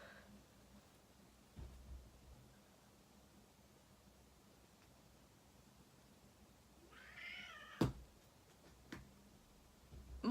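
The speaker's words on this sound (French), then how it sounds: "Mon chat." A house cat gives a short meow toward the end, a brief rising cry over quiet room tone with a couple of soft knocks around it.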